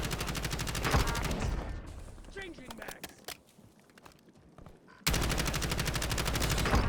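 Dense, rapid gunfire from a Call of Duty: Warzone firefight, loud bursts crackling across the opening and closing stretches with a quieter gap in the middle where a voice speaks briefly.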